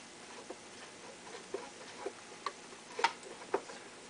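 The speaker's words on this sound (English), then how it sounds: "I'm going to go ahead and get the screw started" A screw is driven into a wooden doll bunk bed, giving a series of small, quiet, irregular clicks and ticks about half a second apart against a soft hiss.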